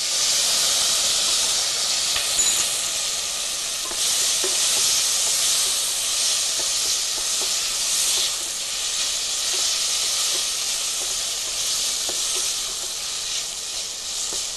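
Onions and tomatoes sautéing in a pan give a steady, close hiss and sizzle that runs without a break, with no talking over it.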